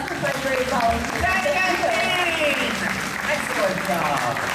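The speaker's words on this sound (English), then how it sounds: "How about a big round of applause for my brave volunteers?" Audience at a live bird show at Disney's Animal Kingdom in Florida claps steadily in a sustained round of applause, with crowd voices and calls mixed in.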